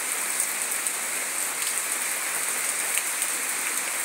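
Steady rain falls outdoors in a dense, even hiss of drops on surfaces, continuous and fairly loud with no voices.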